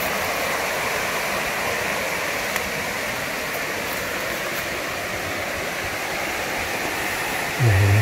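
Steady, full-bodied roar of a waterfall at Seongchisan mountain's Twelve Waterfalls in Geumsan, close and continuous with no voices, a brief low thump near the end.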